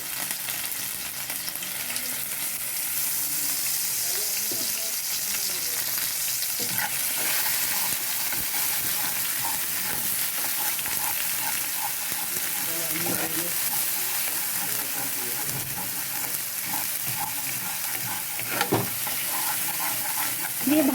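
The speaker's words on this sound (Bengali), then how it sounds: "দিয়ে ভালো করে আদা রসুন পেস্টটাকে ভেজে নেব।" Ginger and garlic paste frying in a pan over already-fried garlic while a handi chicken is being made: a steady close sizzle runs throughout, with stirring scrapes and light utensil taps.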